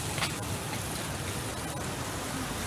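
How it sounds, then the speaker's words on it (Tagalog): Steady rain patters continuously on surfaces nearby, a dense even hiss with no voices. "Maulan pa din."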